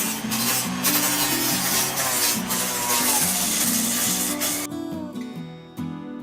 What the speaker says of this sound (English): most of the footage for this video was sanding.